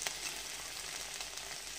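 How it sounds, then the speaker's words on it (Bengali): Okra (bhindi) frying in oil in a pan makes a faint, even sizzle that crackles steadily throughout, with no voices over it. "এখনও ভাজা হয়নি, আর একটু ভাজবো।"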